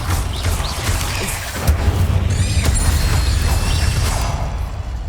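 A Bombarda spell explosion in Hogwarts Legacy, a loud, dense rumbling boom with mechanical creaks and whooshes that sustains steadily for several seconds without speech.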